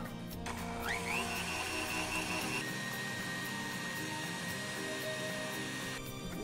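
An electric mixer beating brown sugar, eggs and salt in a home kitchen, a continuous steady motor whine with a pitch shift early on, heard close and alone without talk.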